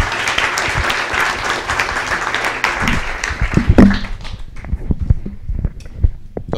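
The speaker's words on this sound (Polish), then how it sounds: "Raz jeszcze oklaski." Audience applause at a mountaineering talk, a dense, loud burst of many hands clapping that fades into scattered, individual claps near the end.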